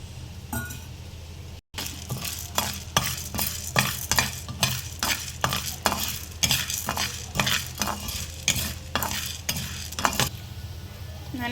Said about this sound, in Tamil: இப்போ வெறும்னா இந்த உளுந்தம்பருப்பையும் கடலைப்பருப்பையும் வறுத்துக்கலாம்